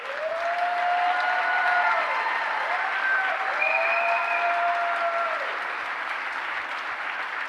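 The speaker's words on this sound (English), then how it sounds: "I thank you for applauding for them" A university convocation crowd claps loudly and continuously, with whoops and whistles rising above the applause, which fades slightly toward the end.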